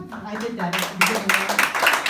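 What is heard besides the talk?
audience clapping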